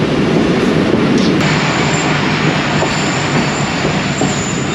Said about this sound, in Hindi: झेलम स्टेशन पर रुकी है ट्रेन।